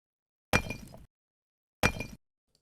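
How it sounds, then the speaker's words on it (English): Two sharp impacts from a stone thrown in a junkyard for a percussion sample, each a bright crashing hit with a short rattling decay, spaced about a second apart, close and loud with silence between. "this percussion sound of me throwing that stone"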